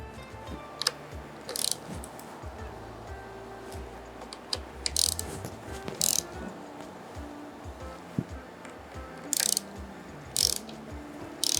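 Ratchet wrench tightening the aluminum handlebar clamp bolts on an SG250 bike during assembly, giving short bursts of rapid clicking at irregular intervals over a low background hum, close and fairly clear.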